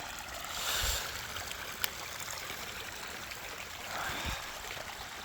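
Water trickles and streams steadily nearby, running down from a pond, a soft continuous wash with a couple of faint bumps and no voices.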